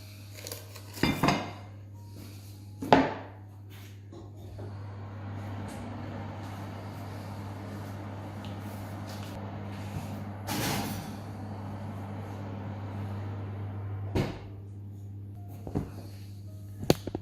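A lidded pot of sourdough goes back into an oven heated to 250 degrees Celsius, with sharp metallic clanks and clatters of the pot and lid over a steady low oven hum, a few scattered knocks following.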